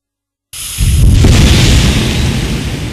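A sudden loud blast from a vortex cannon charged with powdered coal dust, erupting from silence into a sustained roaring boom that holds strong for seconds, with no voices.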